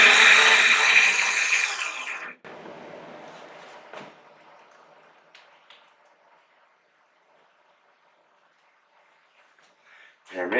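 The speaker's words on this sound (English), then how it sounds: "I'm leaving the grinder set for the beans I normally use" An espresso coffee grinder grinds beans loudly for about two seconds, then stops abruptly, leaving faint knocks, brushing and handling sounds before a brief burst at the end.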